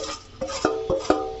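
A spoon stirs roasted chickpea powder and dry fruits into jaggery for laddus, giving four close, distinct scraping knocks against the pot in quick succession.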